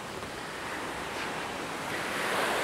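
Ocean surf at the seaside, a steady broadband wash of waves rising slightly in loudness, with some wind buffeting the microphone and no voices.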